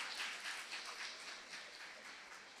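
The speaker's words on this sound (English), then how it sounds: "The whole team deserves immense applause" Audience applause after a school play at an IIS Jubail Foundation Day event, steady mid-level clapping from a crowd that slowly fades a little over the short stretch.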